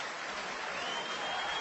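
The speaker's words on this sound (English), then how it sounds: "Yes, applauding him" A darts crowd at the 2014 BDO World Championship final applauds Stephen Bunting with a steady, dense wash of clapping that holds at an even level throughout.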